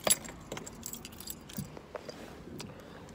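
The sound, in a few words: keys on a new key ring jangling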